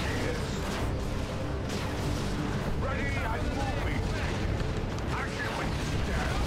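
Grenade blasts and battlefield gunfire from the Warhammer 40K: Dawn of War 2 Retribution strategy game, Space Marines in combat, a dense continuous din of booms and bursts with faint talk and chatter mixed underneath.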